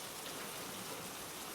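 Rain falls during a thunderstorm, a steady, even hiss of drops on surfaces with no thunder rolls or voices standing out.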